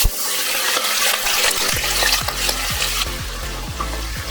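Finely crushed onions dropped into hot oil for a dhaba-style chana dal fry, a loud, close, continuous sizzle with stirring scrapes and a rhythmic series of low knocks from the pan, no talking.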